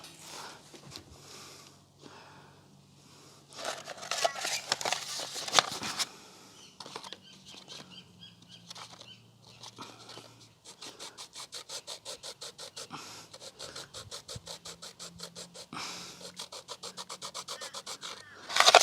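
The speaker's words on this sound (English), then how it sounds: "So I'm going to actually rub that entire surface down." Rubbing down a surface on a dump-found drop saw (mitre saw): irregular scraping and rasping at first, then a steady, fast run of rhythmic abrasive strokes in the second half, close and moderately loud.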